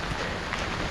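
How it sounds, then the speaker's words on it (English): Steady rain falls outdoors on a cool December morning on a North Carolina trail, a dense, even patter spread across the whole clip with no talking. "It's raining pretty good this morning."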